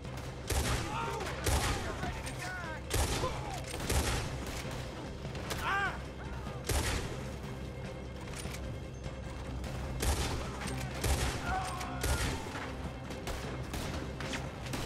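A shootout in the video game Red Dead Redemption 2, with repeated sharp gunshots cracking in irregular bursts over a constant background rumble, some shots near and loud, others farther off, with brief voices in between.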